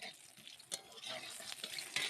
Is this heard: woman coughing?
no